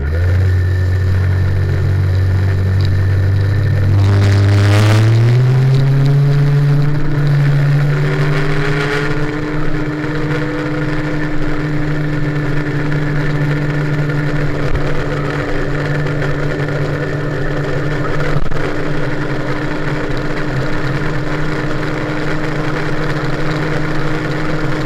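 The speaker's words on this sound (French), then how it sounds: "Le moteur réagit pas trop mal comme ça là." A small two-stroke MBK 51 moped engine fitted with a new variator revs up from idle, pitch climbing then holding at a steady buzzing drone, loud and close throughout.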